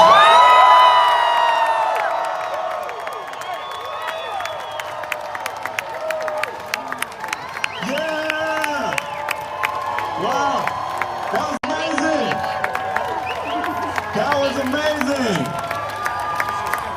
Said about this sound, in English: Y'all are not shouting loud enough.